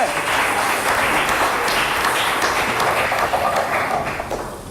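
An audience at a French cooking competition show claps and cheers for a chef, a dense burst of applause that stays loud and steady before tapering off at the end.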